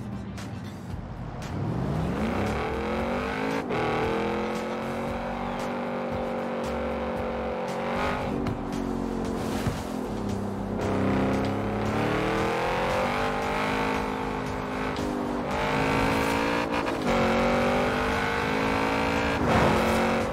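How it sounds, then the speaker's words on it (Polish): Audi RS with an inline three-cylinder engine, driven in the racing game Forza Horizon 4, revs and accelerates continuously, its engine note rising and falling through gear changes, loud and close with no talk. "To jest pierwszy Audi RS, w którym zainstalowano rzędowy trzycylindrowy silnik."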